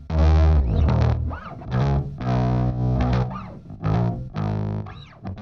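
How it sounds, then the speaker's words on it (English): A distorted synth bass line played in short phrases, loud and upfront with a gritty, buzzing edge and effects-heavy tone, alone with no voices. "this bass sound was super, super important for this record"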